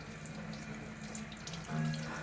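Hot water runs steadily from a tap into a sink, a continuous close hiss of flow that swells louder near the end as the stream strengthens.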